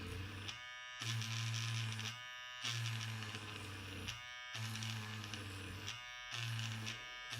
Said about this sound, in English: Now turn your eraser on and just drag it while it's on across the sandpaper